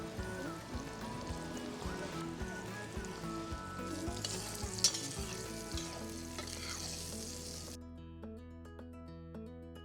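Wild mushrooms sizzle and fry steadily in a hot pan, a continuous close crackle and hiss, with music playing over the cooking for most of the time.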